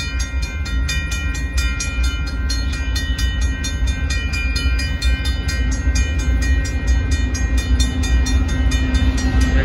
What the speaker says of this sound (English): Here comes the northbound Union Pacific gravel hopper car train.